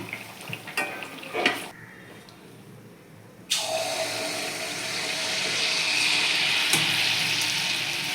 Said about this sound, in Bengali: এইভাবে আমি একে একে সমস্ত মালপোয়াগুলো ভেজে নেব